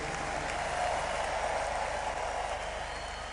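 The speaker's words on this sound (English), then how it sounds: "Can we give the Lord a big clap and a shout of praise?" A church congregation claps steadily, a dense and even wash of hands at moderate volume that holds throughout, with no voices rising above it.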